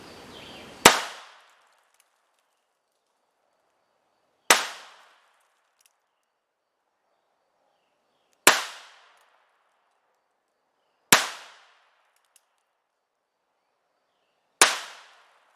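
An NAA .22LR mini revolver firing five sharp single shots at irregular spacing of roughly three to four seconds, each a loud crack with a short decaying tail, near and otherwise quiet.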